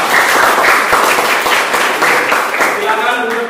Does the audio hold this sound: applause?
yes